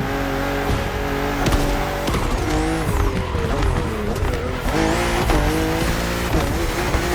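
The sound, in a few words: BMW M2 and M4 cars racing in The Crew Motorfest video game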